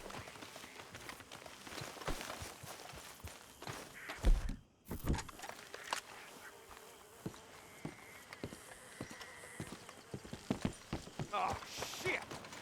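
Horse hooves clip-clopping in the video game Red Dead Redemption 2, a run of steady footfalls that slows and stops, with characters talking over it and faint insect sounds behind.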